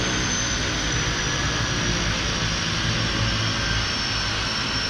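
Harbour Air seaplane at Victoria harbour, producing a loud, steady engine drone and roar that holds evenly throughout with no speech.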